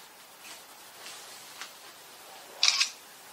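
The Compact 10 HD magnifier gives a short, crisp simulated camera shutter click, preceded by a few faint soft taps in a quiet room.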